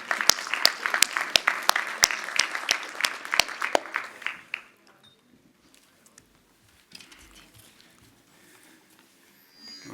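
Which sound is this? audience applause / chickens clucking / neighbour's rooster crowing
audience applause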